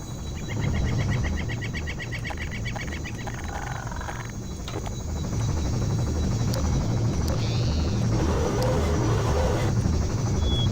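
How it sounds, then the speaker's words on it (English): A video game helicopter flies past with a steady, continuous rotor drone that thickens and grows louder partway through, joined by a few electronic blips. "I was hoping there'd be another chopper"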